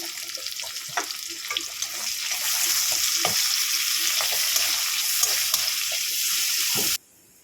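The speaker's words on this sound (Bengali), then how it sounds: "একটু কালো জিরে ফোড়ন দিয়ে দেবো পেঁয়াজ দিয়ে দেবো" Onions fry in hot oil tempered with nigella seeds for a rohu fish curry, a bright, crackling sizzle with scattered pops and spoon scrapes that swells after a few seconds and stops suddenly near the end.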